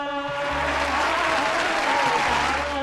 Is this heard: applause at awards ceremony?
yes